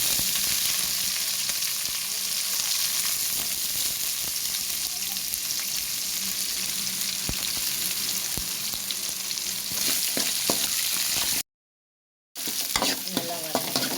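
Onions with garlic and curry leaves sizzle steadily in a pan for a mullet fish curry, with occasional stirring scrapes and a brief silent break near the end.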